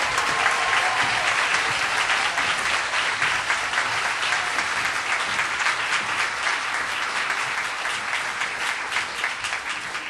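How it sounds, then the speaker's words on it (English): Sustained applause for children's choirs inside All Saints Church, a dense, steady clapping from the congregation that fills the whole stretch and tapers slightly toward the end. "Another round of applause for our children's choirs"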